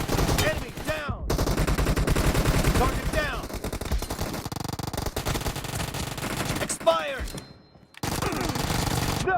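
Uzi fire in a PUBG Mobile team deathmatch, with long rapid automatic bursts broken by short pauses, loud and close, plus other distant game shots.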